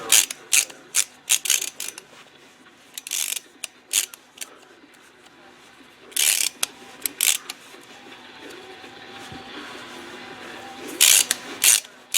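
A ratchet wrench tightens a fastener while a grounding bar is made, bursts of sharp rapid clicking separated by pauses, close by and alone over a faint background.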